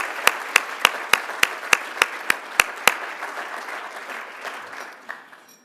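Applause at an anniversary celebration event: a steady roomful of clapping with a few loud, regular claps near the front for the first few seconds, then thinning out and tapering off.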